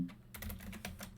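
Quick keystrokes on a computer keyboard, a close run of about half a dozen light clicks over roughly a second.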